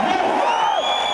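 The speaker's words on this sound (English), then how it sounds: "The crowd loves him." Crowd cheering and whooping for a strongman competitor at the 2008 Fortissimus contest, a sustained, loud roar of many voices with rising shouts running the whole moment.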